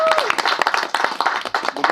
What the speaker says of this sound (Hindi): सो नाचेगा इंडिया टीम के लिए तालियां हो जाएं यार